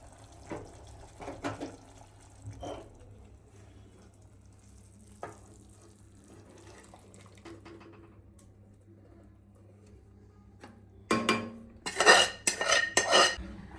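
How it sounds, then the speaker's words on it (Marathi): Chicken Afghani gravy being moved from one pan into another, with scattered metal clinks and scrapes of a spoon against pans over a low hum, then a loud burst of clattering and scraping at the end. "आता या साईडला जी ग्रेव्ही आपण शिजायला ठेवली आहे ती आपण याच्यामध्ये ट्रान्सफर करणार आहोत."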